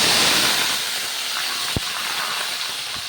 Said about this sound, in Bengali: এবার আমি তেলের মধ্যে এক একটা করে উপকরণ অ্যাড করে দেবো। প্রথমেই দিয়ে দেবো আমি পেঁয়াজ কুচি